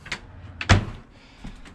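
A cabinet door or drawer in a 2018 Ice Castle 17-foot Mirage fish house is opened with a single sharp clack near the middle, flanked by softer handling knocks in a quiet interior.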